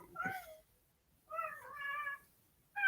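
Cats meow at a door, three clear, close meows with pauses between, the last cut short at the end, in a quiet room.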